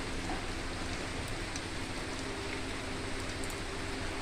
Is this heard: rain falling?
yes